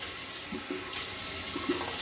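Water runs steadily from a bathroom tap during a shave with a barber-pole-striped razor, a soft continuous hiss with faint splashes, close by and alone.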